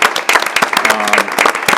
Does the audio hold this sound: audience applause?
yes